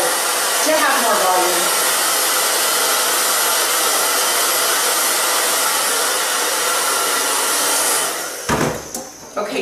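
A hair dryer roars steadily and loudly while blowing sections of hair dry for volume, then cuts off near the end, with brief speech over the noise.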